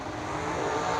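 Dragster with an American or Race Tech chassis launching off the starting line at a drag racing event, a loud, dense engine roar filling the full second.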